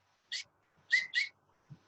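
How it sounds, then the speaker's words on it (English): A man whistles a signal in a Malayalam film scene: one short shrill note, a pause, then two quick notes in succession, loud and clear over near silence. "He will whistle."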